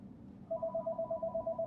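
A telephone rings in the space colony game Space Haven Alpha 16, a steady electronic warble pulsing in quick even bursts after a short pause, fairly faint and with no talk over it.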